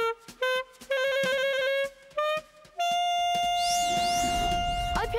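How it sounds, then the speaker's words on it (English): A saxophone in a children's junior jazz band plays a funky, bouncy line of short repeated notes broken by gaps, ending on a long sustained tone with a shimmering echo effect, loud and alone. "I play the saxophone, and I love the funky sound of it."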